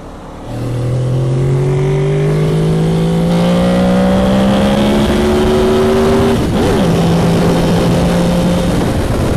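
A Honda VFR800 VTEC motorcycle under way, loud and close, its engine note climbing steadily through a long pull, then briefly dipping at a gear change before settling into a steady drone with wind rush.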